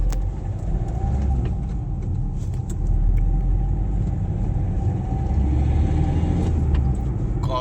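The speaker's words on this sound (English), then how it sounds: "it just pulls me back every time I just press on the accelerator" A 2011 Hyundai i20 diesel car accelerates hard, heard from inside as a steady, loud engine and road rumble that builds slightly throughout.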